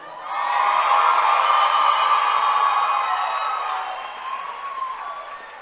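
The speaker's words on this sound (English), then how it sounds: "the moms and dads and family members always cheer a little bit louder" Families at a 2024 high school graduation cheer and applaud loudly, a sustained wash of clapping, whoops and shouts that swells quickly and then slowly fades.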